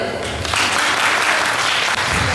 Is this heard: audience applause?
yes